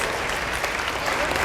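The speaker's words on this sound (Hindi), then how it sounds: "नबीहा के लिए तालियां होनी चाहिए" An audience at a motivational session for students applauds for a student named Nabiha, giving a dense, steady wash of clapping that fills the short moment at a moderate level.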